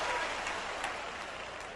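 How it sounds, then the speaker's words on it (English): A church congregation claps during a sermon, a dense, steady wash of many hands heard from a distance, moderately quiet and unbroken for the short stretch. "clap your hands, somebody, if you understand what I'm talking about"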